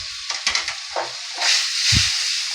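Spices and a soybean curry base frying in a pan with a little added water, giving a steady hiss and sizzle with a few soft stirring knocks and scrapes, fairly close and without talk.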